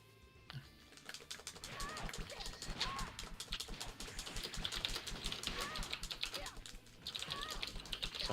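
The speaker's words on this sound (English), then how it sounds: "Sorry, my keyboard's so loud." A loud computer keyboard clatters in fast, dense bursts of keystrokes close to the microphone, pausing briefly and then resuming. High, squeaky game sounds chirp faintly in the background.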